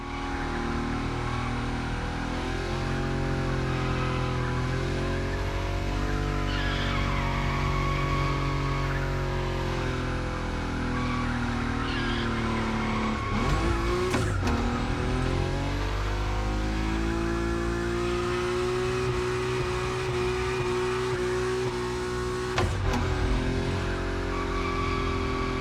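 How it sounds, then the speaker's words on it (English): A Nissan Nismo drifts at high speed in The Crew Motorfest, its engine holding a loud, continuous revving drone with shifting pitch and tire skid noise layered underneath, broken by two brief rough bursts. "Your Nismo is powerful enough to slide along on its own when you're at high speed"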